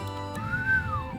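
A video game character whistles in a Trails Through Daybreak II scene: one clear tone that glides up, holds, then slides back down, alone and close.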